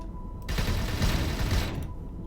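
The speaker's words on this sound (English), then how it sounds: "And the second one is just gonna be auto fire." A weapon on automatic fire in the space game Avorion lets off a dense, loud burst of rapid shots lasting over a second, then cuts off abruptly.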